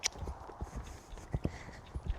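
Horse hooves thudding in a rhythmic clip-clop as the horse canters on a lunge line, uneven three-beat strikes on soft ground, close and moderately loud with no talk.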